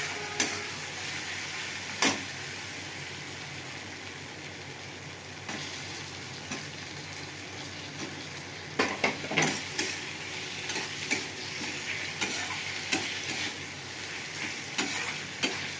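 Ginger-garlic paste frying in oil for a chicken and potato curry sizzles steadily and close, broken by occasional sharp scrapes and taps of a spoon against the pan.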